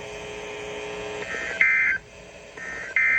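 A two-tone EAS emergency alert signal sounding during a school's weekly warning alarm test, a steady electronic tone that steps up in pitch and breaks off in pulses, loud and clear with no voices.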